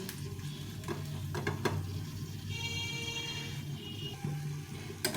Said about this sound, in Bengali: এই সাইডে একটু তেল দিয়ে দিতে হবে এত সুন্দর খেতে হয় না এটা খেতে ভীষণ সুন্দর হয় তা আমি দুপাশে এভাবে চেপে চেপে ভেজে নেব